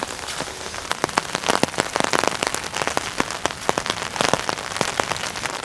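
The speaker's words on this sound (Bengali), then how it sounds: "বৃষ্টি জোরে নামতেছে, অনেক জোরে।" Heavy rain pours down outdoors on a narrow muddy path, a dense, steady patter of drops with sharper individual splats, continuous and fairly close, with no voices.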